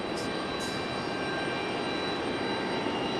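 JetBlue Airbus A220 jet at Raleigh-Durham International Airport, a steady broadband engine roar holding at constant level throughout, fairly loud with no voices.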